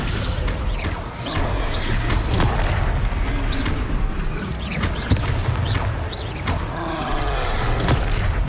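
Descendo spell cast in Hogwarts Legacy combat, heard as heavy booming magical impacts with thuds and crashes over a steady, dense battle soundscape.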